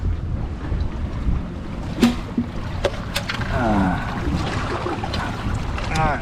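A motorboat runs on a river with a low, steady engine rumble, mixed with gusty wind buffeting the microphone and faint splashing.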